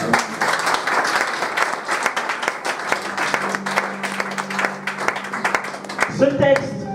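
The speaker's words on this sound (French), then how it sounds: "Est-ce qu'on peut acclamer la parole?" Congregation applause at a church meeting after a scripture reading: sustained, fairly loud clapping from many people, with a held tone running under part of it, tapering near the end.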